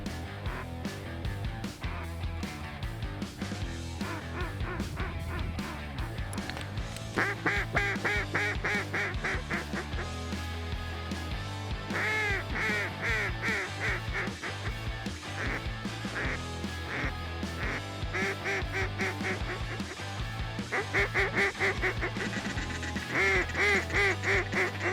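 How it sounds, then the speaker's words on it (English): Many ducks quacking constantly over water, a dense chorus of raspy calls close and far, rising in busy bursts over a continuous low background. "A lot of ducks in the air."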